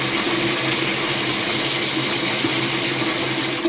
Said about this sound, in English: add some cold water to it